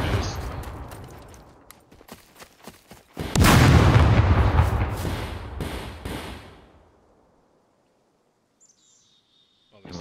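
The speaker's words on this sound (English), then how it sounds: "Chucking a grenade." A grenade is thrown and bursts in the survival shooter Scum during a PvP event, with a few sharp cracks followed by a loud, broad explosion that rumbles and decays over several seconds into near silence.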